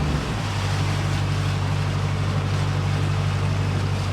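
A wide beam canal boat running under engine power, its deep steady diesel drone and low harmonic hum holding constant alongside a broad wash of water and air noise, close and fairly loud throughout, no voices.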